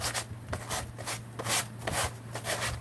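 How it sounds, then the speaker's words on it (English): Sandpaper rubbing the rough edges of a glued paper napkin in an art journal, heard as quiet rhythmic rasping strokes, about two per second, over a low steady hum. "the roughness of the napkin needs to be sanded down a little"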